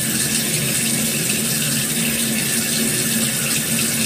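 Tap water runs steadily onto a bar of soap being wetted for another lather during a morning face-washing routine, a continuous broadband splashing hiss close by and fairly loud, with no talking.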